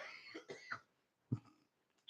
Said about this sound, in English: That's not a smoker's cough.